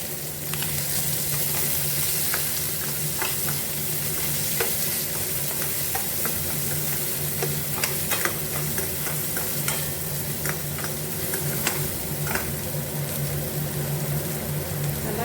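Onion sizzles in a pan while being stirred, a continuous loud fry broken by frequent scraping and clicking strokes of a spoon throughout.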